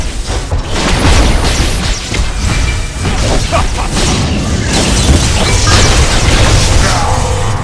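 An enemy turret is destroyed in the mobile MOBA game Iron League, bringing loud, dense crashing and booming impacts with clattering mechanical bursts layered over continuous battle noise, close and sustained throughout.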